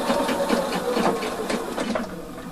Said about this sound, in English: stitch it and go backwards and try to do it so it looks like a zigzag